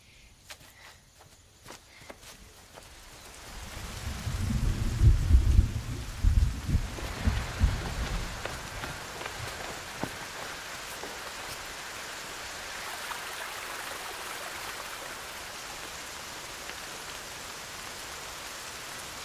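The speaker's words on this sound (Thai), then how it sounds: "ฝนกำลังจะตกแล้ว" Heavy rain sweeps in on a rural Thai film scene: a loud low rumble swells after a few seconds, then settles into a steady hiss of rain falling on surfaces that continues to the end, with no talking.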